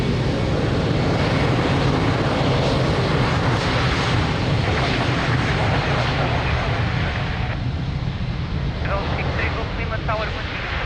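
An airliner takes off from runway 02 at Lisbon Airport with a continuous, loud, broad engine roar that eases slightly toward the end, while voices are heard underneath.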